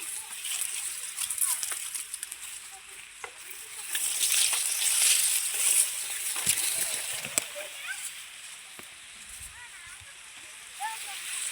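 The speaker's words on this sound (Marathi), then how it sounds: "असं पाणी चालू" Steady flowing water with light splashing and sloshing, moderately close, while a voice talks intermittently over it.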